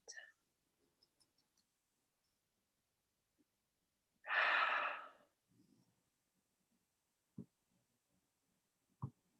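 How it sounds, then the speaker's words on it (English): One long, deep exhalation rises clearly out of near silence partway through, with soft breath noises and a few small clicks and taps scattered around it. "Deep breath in and out."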